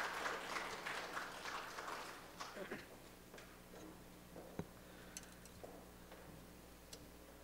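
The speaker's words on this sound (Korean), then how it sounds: "하나님께 감사와 영광의 박수 올려드리겠습니다." A Korean church congregation claps during a worship service, a burst of applause that is fairly full at first and then thins out within a few seconds into scattered, faint claps and quiet room sound.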